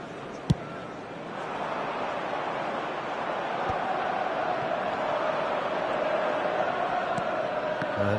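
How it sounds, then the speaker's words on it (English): A football match crowd in a stadium swells into sustained cheering and applause, a broad distant roar building after a brief thump and holding steady. "at least the crowd are appreciative of his efforts"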